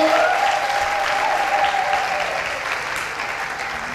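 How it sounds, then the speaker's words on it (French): A congregation applauds and cheers after a closing prayer at a church gathering, a dense, steady wash of clapping that eases slightly in loudness over a few seconds. "Des acclamations."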